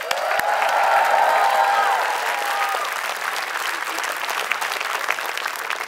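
Festival crowd at a concert applauding and cheering, a dense steady wash of clapping with scattered whoops that swells over the first two seconds and then holds at a slightly lower level.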